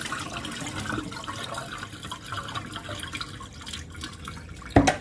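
Washing water from rinsing chicken is poured out of a container into a sink, a running splash and drip that ends with a brief thud.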